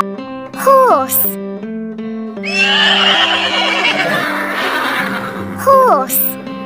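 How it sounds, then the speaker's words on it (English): A horse neighs twice in a toy farm-animal sound set, sharp descending whinnies at start and end with a voice naming the animal in between. "Horse."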